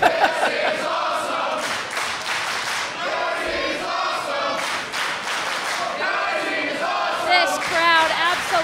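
A fired-up crowd at an independent wrestling title match cheers and shouts in a continuous roar, with a commentator's voice running over the noise.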